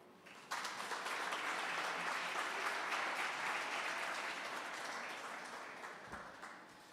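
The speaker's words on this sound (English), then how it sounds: "Let's give her a big round of applause as she takes her seat." An audience at an academic awards and seventh-grade graduation ceremony breaks into sudden applause, a steady wash of clapping from many hands that slowly thins and softens toward the end.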